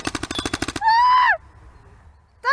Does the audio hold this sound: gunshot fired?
yes